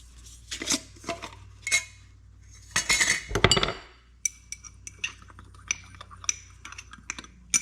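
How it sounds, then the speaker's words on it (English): Homemade dry shampoo powder rattles and clinks inside a lidded glass jar shaken by hand, with irregular bursts of knocking and a stronger vigorous shake in the middle, close and fairly loud. "Get the lid on, it'll be easier that way. Give it a really good shake."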